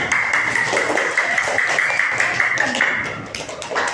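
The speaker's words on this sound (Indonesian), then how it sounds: "Beri tepuk tangan." Classroom applause for a student group: a dense, steady patter of many hands clapping at close range, mixed with children's voices, lasting several seconds.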